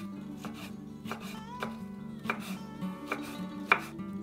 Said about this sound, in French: Je coupe tous les ingrédients de la farce en petits cubes.